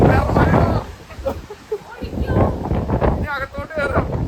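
Strong wind blows in heavy gusts against the microphone at night at a resort in Munnar, rumbling and roaring beneath people talking nearby.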